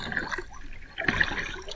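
River water moves as the incoming tide fills it, a brief, fairly faint burst of gurgling, sloshing liquid with no voices.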